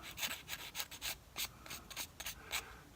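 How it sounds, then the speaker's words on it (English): Sanding a small plastic model part to smooth down a leftover sprue tab, with the part clamped down: a quick series of close, light rasping strokes in an uneven rhythm, with no voices. "then just come in and literally sand that tab smooth"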